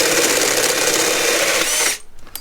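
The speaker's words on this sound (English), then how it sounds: "I'm just gonna find the center of that and drill away." A power drill whines steadily at close range for about two seconds while installing central locking in a Toyota Corolla, then cuts off abruptly, leaving quiet room noise.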